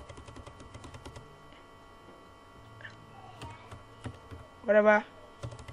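Someone types a name on a computer keyboard while rendering in video-editing software, a run of soft close key taps with pauses between them, followed by a brief spoken word near the end.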